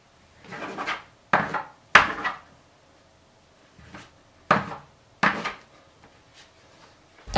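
Brioche dough slapped and pressed into balls on a wooden work surface, giving a series of soft thumps and muffled knocks in irregular bursts, close and fairly loud with quiet gaps between.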